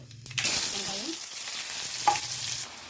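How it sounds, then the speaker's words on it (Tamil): Mustard seeds frying in hot oil in a pan, a steady crackling sizzle with a brief stirring scrape, heard close and alone. "சட்டி நல்லா எண்ணெய் சூடாயிடுச்சு. இப்போ இதில் கடுகு"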